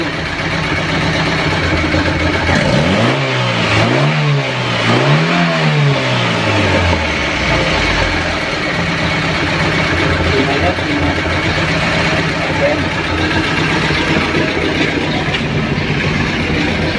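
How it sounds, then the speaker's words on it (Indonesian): A 1988 Toyota Starlet engine runs after its distributor has been calibrated, idling loudly and steadily close by, with a few quick revs early on. "Kemudian hasil delco dikalibrasi seperti ini suaranya"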